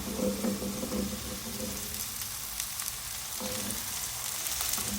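Boiled black chickpeas (kala chana) frying in a pan of masala for chaat, a steady close sizzle with stirring scrapes, alone without talk.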